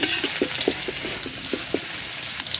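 Whole cumin, bay leaf, dry red chilli and garam masala frying in hot oil: a steady, bright crackling sizzle with a rhythmic series of soft stirring scrapes, close and continuous, with no voices.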